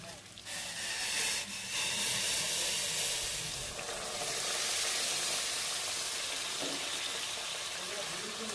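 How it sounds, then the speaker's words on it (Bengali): Hot water poured into a pan of frying pointed gourd and potato curry sets off a loud, continuous hissing sizzle and steam that runs steadily throughout. "পটল আর আলু অ্যাড করে আবারও কিছুক্ষণ কষানোর পর এর মধ্যে আমি অ্যাড করে দেব গরম জল"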